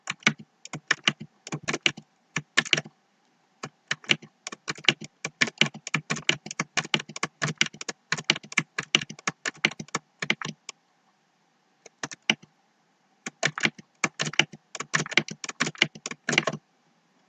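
Quick bursts of typing on a computer keyboard while entering values into a spreadsheet, crisp clustered key clicks in runs separated by short pauses, close and alone without speech.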